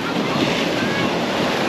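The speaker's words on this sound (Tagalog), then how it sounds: "Grabe, ang lakas ng alon." Strong ocean waves breaking on a beach at Baler, a loud continuous wash of surf mixed with wind buffeting the microphone, with no voices.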